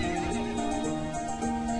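Tonal, wavering neigh of a horse in the game To the Moon, moderately loud over a busy backdrop of game music.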